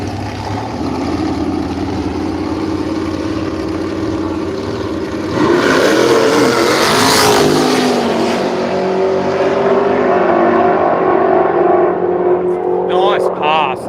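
Radial drag racing cars roar past at Willowbank, a loud, sustained engine drone that swells as a car passes, builds into a harsh peak and then trails off, with an announcer talking over it.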